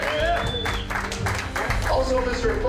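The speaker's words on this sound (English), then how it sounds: "Big round of applause again for Jeff." Crowd applause for Jeff Wacha, Mr. Detour Leather 2000, on stage at a leather event, a steady wash of clapping mixed with voices and cheering throughout.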